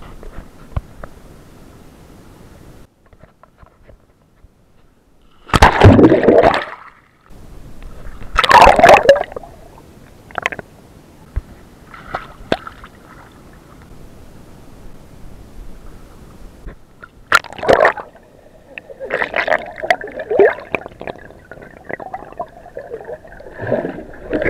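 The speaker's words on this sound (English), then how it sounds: "I just had to go in this swimming pool." Someone swimming in an outdoor apartment swimming pool: loud, close splashes and sloshing water in bursts, with quieter gaps of lapping between strokes.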